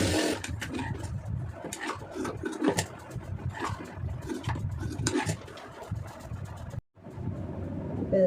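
A sewing machine stitches blouse fabric in a loud, continuous rattling run that stops briefly near the end and then starts again.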